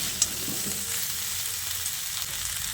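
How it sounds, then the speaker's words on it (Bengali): Spice paste and vegetables, including drumstick, potato and pumpkin, are sautéed in a pan, giving a steady close sizzle with soft stirring scrapes and a small click near the start. No voices are heard. "বাটা মশলাটা দিয়ে বেশ কিছুক্ষণ ভালো করে কষিয়ে নিয়েছি"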